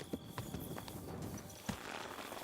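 Horse hooves clip-clop on a road in the video game Kingdom Come: Deliverance 2. A few faint, scattered steps sound over a quiet background.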